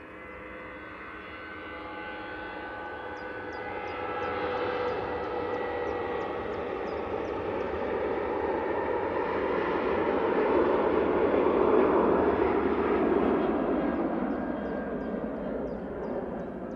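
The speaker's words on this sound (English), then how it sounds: "We call it the ET Fairways, it's 737, and it's off to Palma." ET Fairways Boeing 737 jet departing Manchester Airport for Palma, a sustained distant engine roar that swells slowly and peaks near the end, heard alone without talking.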